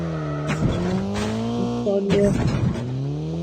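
Car engine note from a vehicle driven in Call of Duty, a steady rising and falling drone with brief tire squeals, running under excited gamer chatter throughout.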